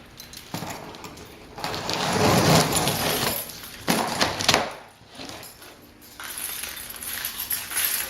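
Keys slice open a cardboard shipping box holding a Duraflame DFS950 electric fireplace, making close, rough scraping and tearing bursts in two long strokes with a short pause between them.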